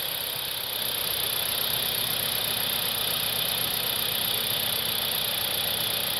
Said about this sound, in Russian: Работа двигателя на холостых оборотах.